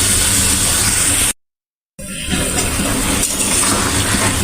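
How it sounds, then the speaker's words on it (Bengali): Water poured into a pan of frying vegetables for an Ekadashi dish brings a loud, steady hiss that cuts out to silence for a moment, then returns as bubbling sizzle. "দেখো জলটা দিয়ে দিলাম।"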